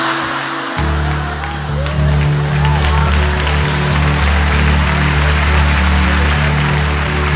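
Church congregation applauding during a sermon, a sustained dense patter of many hands over a low steady hum, filling the room evenly after a brief quieter start.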